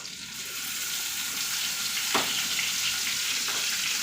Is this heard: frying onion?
yes